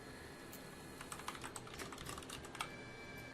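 Keys clatter on a computer keyboard in a quiet room during a Windows 8 setup, a short run of light, irregular taps close by with no voice.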